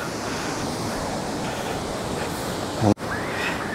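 Ocean waves on the beach at Legian, Bali, a steady loud wash of surf with wind buffeting the microphone and a sudden brief dropout near the end.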